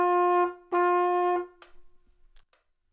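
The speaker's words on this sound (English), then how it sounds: "So a quarter note sounds like this on the trumpet." A trumpet plays three sustained notes of the same pitch with short gaps between them, bright and close, then fades into quiet with faint small noises.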